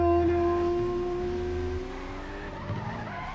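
A car in the PS2 racing game Alfa Romeo Racing Italiano skids with a sustained, steady tire squeal over a low engine drone, fading slightly as it goes, with no voices.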